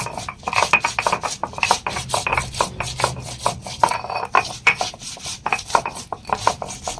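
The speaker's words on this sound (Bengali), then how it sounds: "আর মশলাটা একসাথে বেটে নিচ্ছি" Spices being ground together on a grinding stone, a close, rhythmic scraping and rubbing with quick repeated strokes and no voices.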